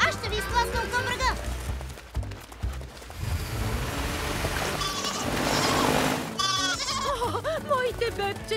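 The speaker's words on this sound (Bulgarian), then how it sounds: "О, бягаща коза!" Cartoon yoga goats bleat and scamper in an animated PAW Patrol scene, the bleats and running mixed with character voices talking and brief splashy sounds.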